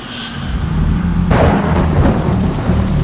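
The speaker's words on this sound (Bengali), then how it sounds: "হঠাৎ করে বাজ পড়ছে আর কালো মেঘ" A loud thunder crack bursts in suddenly midway through a storm scene in an animated ghost story, rolling on as a dense rumble above a low steady drone.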